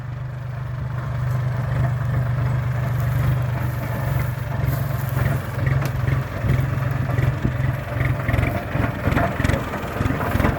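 A New Holland TT3.50 tractor fitted with a six-disc plough runs steadily, a continuous low engine drone that swells and pulses as it revs, heard close with no talk.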